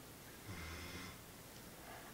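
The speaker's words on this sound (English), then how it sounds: "this little guy just starts snoring" A small pet dog snoring softly indoors, a couple of faint nasal snorts and breaths close by with no talking over them.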